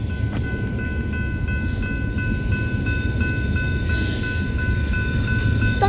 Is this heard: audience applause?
no